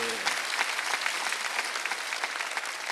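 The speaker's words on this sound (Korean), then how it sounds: "박수하지." A church congregation claps steadily throughout a Sunday worship service, a dense, even patter of many hands filling the room.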